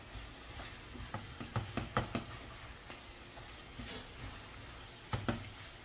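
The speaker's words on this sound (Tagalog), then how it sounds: "antay lang natin maluto yung ano, giniling." Ground pork frying in a pan for tortang talong, a soft steady sizzle broken by several sharp spatula knocks and scrapes against the pan in a short cluster, then a few more near the end.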